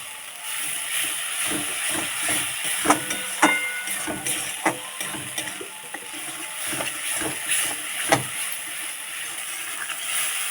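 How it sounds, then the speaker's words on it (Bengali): Spice paste sizzling and hissing in a pan as it is sautéed for fish curry, a constant close frying hiss broken by frequent spatula scrapes and clinks, no voices. "মশলাটা ভালো করে এইভাবে কষিয়ে নেবো"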